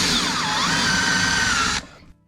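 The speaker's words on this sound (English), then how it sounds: "drill some new holes" A power drill drilling holes for an IKEA kitchen install in a Sprinter van whines steadily at high speed for nearly two seconds, then cuts off abruptly and spins down.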